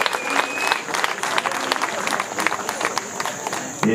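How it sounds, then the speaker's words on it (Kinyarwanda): Guests at a Rwandan wedding clap together in a loud, sustained round of applause, with crowd noise and some voices mixed in. "mwamuhaye amashyi y'urwunge mu kanyarwanda"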